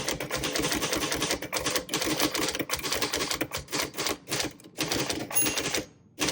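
Rapid mechanical clacking of keys striking on a 1962 Royal Futura 400 manual typewriter, a dense run of keystrokes close by with a brief pause near the end.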